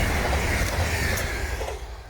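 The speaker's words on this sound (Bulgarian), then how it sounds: "Его тук даже пристига влака, с този влак се прибирам." A train rumbles past at a station in snowy weather, a loud, steady broadband roar that fades slightly as it pulls away, with no talk over it.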